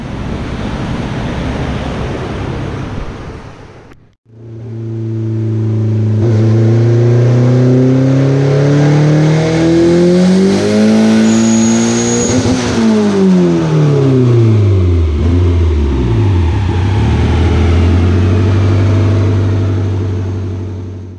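A stock GSR Integra engine making a dyno pull at about 19 psi of boost: after a brief drop-out, a loud, close engine roar climbs steadily in pitch, peaks, then winds down to a steady idle.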